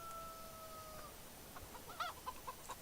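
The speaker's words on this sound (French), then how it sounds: "Ah, j'ai entendu une poule." A video game chicken clucks a few short times, faint and a little distant, after a thin electronic tone fades out.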